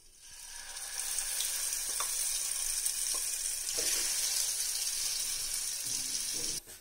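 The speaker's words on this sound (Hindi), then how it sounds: "और अब हम डाल देंगे हमारी जो चटनी जो हमने पीसी है।" Garlic chutney hits hot ghee with cumin seeds and fries with a loud, steady sizzle, close and continuous for several seconds before it cuts off abruptly.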